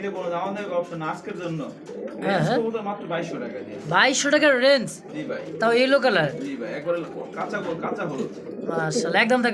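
Pigeons at a pigeon sale coo softly under near-constant conversation between men close by.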